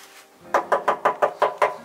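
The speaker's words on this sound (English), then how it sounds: "But if I knock that side" Seven evenly spaced knocks on a hollow camper van body panel, close and loud, each with a short resonant boom, in a quick steady rhythm.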